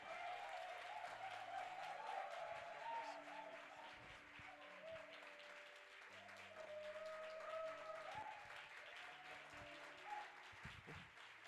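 A church conference audience applauds to welcome a speaker to the stage, soft, distant clapping beneath sustained music tones, fairly faint overall.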